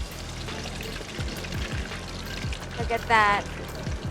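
Flour batter frying on a hot mould dipped in oil for Thai kratong torng cups, giving a close, steady bubbling sizzle with a brief spoken remark over it.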